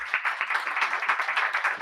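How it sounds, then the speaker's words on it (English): A crowd at a business seminar applauds steadily, a dense wash of many hands clapping loudly and evenly throughout, with no voices breaking through. "Can I get a round of applause for that?"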